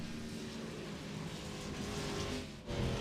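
Race cars roar past on the Watkins Glen boot circuit in the iRacing game, a steady engine drone that swells toward the end with a brief sweep as one car slides sideways by the camera.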